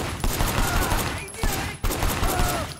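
Sustained rapid gunfire in Sleeping Dogs: Definitive Edition, a loud continuous burst of shots that drops off briefly twice before resuming.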